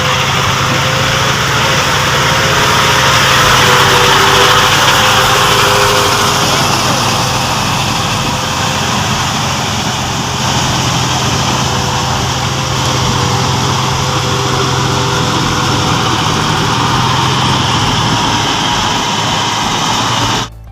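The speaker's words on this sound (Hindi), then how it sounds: "देख सकत हो ओती चलत है ट्रैक्टर।" A tractor works a flooded rice paddy during transplanting day, its engine droning steadily and loudly without pause, close and continuous with no voices over it.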